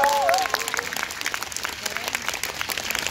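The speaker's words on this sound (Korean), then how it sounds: "박수 부탁드려요." Concert crowd applauding at an outdoor rose festival music show, many hands clapping in a steady patter with some crowd noise, briefly overlapping a host's voice at the start.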